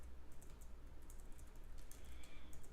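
Quick clicking of computer keyboard keys as someone types chat messages, light and close, with an uneven rhythm of taps and no talking.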